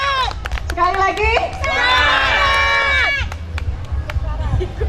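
Health centre staff at an outbound training in Pekanbaru shout together in a loud, enthusiastic burst of many voices, rising in a long sustained cheer before fading into scattered calls.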